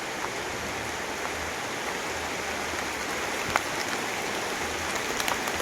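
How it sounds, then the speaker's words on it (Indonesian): Steady, dense rain falls around a traditional Javanese limasan village house in a remote settlement near Gunung Kemukus, a constant close wash of patter with no voices. "sayang sekali ini malah hujan."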